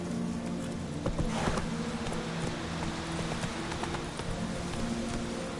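Roach, Geralt's horse in the video game Witcher 3, galloping with steady rapid hoofbeats under a constant ambient wash, with the game's soundscape filling the background.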